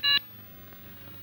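A few rapid telephone dialing beeps, loud and close, as a number is keyed on a phone to call the police commissioner in a Hindi film scene, followed by quiet room tone.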